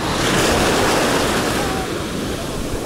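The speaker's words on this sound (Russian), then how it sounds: "там идут большие волны" Large sea waves surge and break on the shore in stormy weather, a loud, continuous broadband roar with gusting wind buffeting the microphone throughout.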